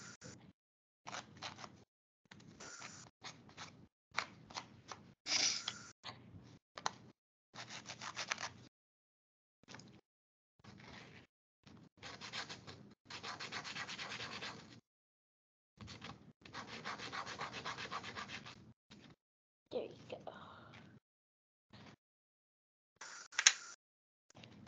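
A small craft snowman heart is sanded by hand in repeated short, scratchy rubbing strokes, close and fairly quiet, separated by brief silences.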